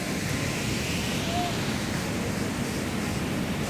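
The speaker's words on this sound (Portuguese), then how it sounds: "E olha que bonito que tem aqui, é tipo uma cachoeira." Steady rushing water from a small waterfall in a park setting in Lisbon, a continuous broadband roar with no breaks, moderately loud and even throughout.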